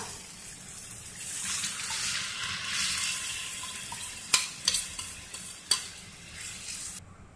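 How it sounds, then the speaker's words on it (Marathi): Dal cooked with turmeric and salt for varan phal simmers toward a boil in a pot, making a soft bubbling hiss that fades slightly, followed by several sharp taps and clinks close by. "आता आपलं हे वरण उकळत आलेलं आहे"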